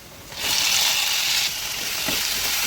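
Tomatoes hit frying onions in a pan for fish curry, setting off a loud, steady sizzle that swells abruptly and holds, with a soft stir partway through.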